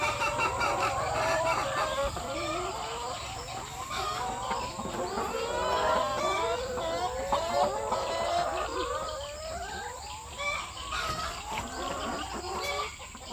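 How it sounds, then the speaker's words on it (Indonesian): Free-roaming laying hens at a semi-free-range coop cluck continuously in a dense flock chorus, with occasional rooster crowing, steady and moderately near, no talk. "Kandang ini kandang ayam petelur."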